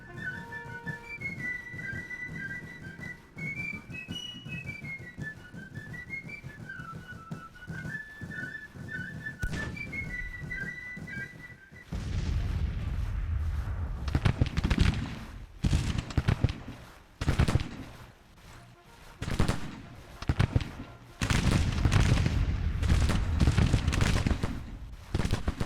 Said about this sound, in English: Their guns are opening up now.